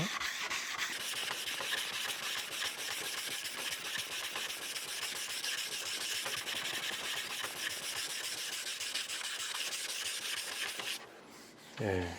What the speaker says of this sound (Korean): 사포를 문지르기 때문에 이 사포하는 소리도 마찰되어지는 소리가 그만큼 줄어든 거죠